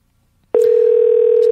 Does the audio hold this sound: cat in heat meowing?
no